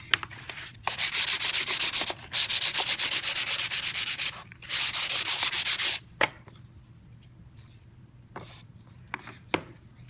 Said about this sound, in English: take flux sandpaper, sand it, clean up those feathered edges